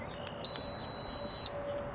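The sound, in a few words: latch receiver beep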